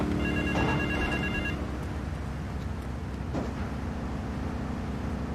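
A telephone rings in the Grand Theft Auto 3 game world, a short burst of electronic ringing early on over a constant low rumble of city traffic and engine noise, no voices.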